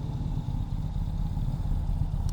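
A 2021 Ural Gear Up Heritage Hunter motorcycle running with its engine idling, a low, steady, throbbing rumble with a slight mechanical clatter, close and continuous, no voices.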